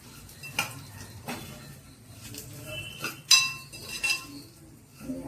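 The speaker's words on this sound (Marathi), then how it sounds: "ते शेवया सुद्धा आपण मिनिटभर परतून घेणार आहोत." Vermicelli and dry fruits are stirred in a pan, with a spoon scraping and clinking against the metal in irregular taps and rattles, close and fairly quiet.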